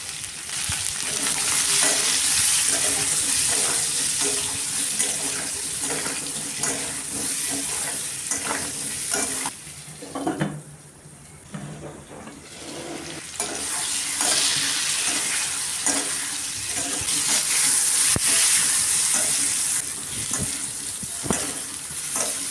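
Sliced pointed gourd sizzles loudly in oil in a pan with salt and turmeric, a constant frying hiss broken by repeated stirring scrapes, briefly easing near the middle before surging again; no voices.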